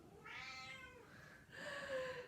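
A house cat meows twice, a drawn-out first call followed by a shorter, higher one, faint and fairly close in a quiet room.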